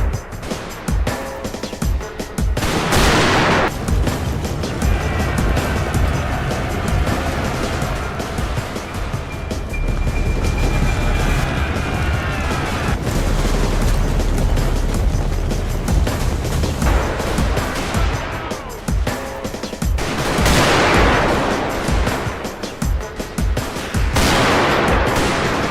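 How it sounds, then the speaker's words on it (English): A loud, dense battle soundscape with massed rifle volleys, rapid Gatling gun fire and bursting rockets, with sustained crackling gunfire and periodic heavy whooshing blasts, in a staged recreation of the 1879 Anglo-Zulu War. "British infantry opened fire, backed by Gatling guns and rockets."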